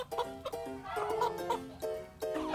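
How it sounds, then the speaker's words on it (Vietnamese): A caught chicken clucks and squawks in agitated bursts at close range, with a busy mix of sounds around it. "Bà Phá đã bắt được con gà rồi"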